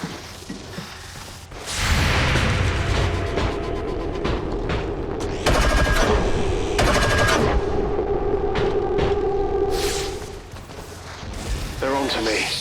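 XCOM 2: War of the Chosen gunshots ring out in loud, sharp reports over a bed of mechanical game noise, with a narrator talking intermittently.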